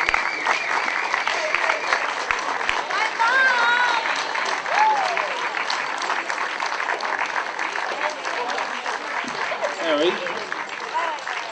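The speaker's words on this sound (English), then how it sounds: "could all the officials please come up and get a round of applause for a great job all weekend" A crowd applauds officials at the 2009 Southern Cross event, with steady broadband clapping lasting throughout and voices calling out and chatting over it.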